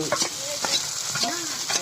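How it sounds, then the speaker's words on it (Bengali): Oil sizzles steadily while tomato and onion are stirred in a pan, with scraping strokes recurring roughly every half second, close up and without talk. "টমেটো এবং পেঁয়াজ কিন্তু তেলের মধ্যে কি সুন্দর মতো ভাজা হচ্ছে"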